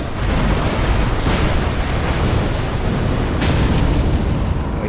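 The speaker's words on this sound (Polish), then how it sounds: "jeszcze błyskawicą sobie strzelę" A lightning spell fired in Dark Souls 3 bursts out as a loud, dense booming roar that holds steady for several seconds, with a couple of sharper surges inside it.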